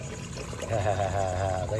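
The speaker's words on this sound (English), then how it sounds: "Partner's going inside, flush the toilet." A household toilet flushes with a rushing pour of water that builds and swirls, heard from nearby under a low rumble.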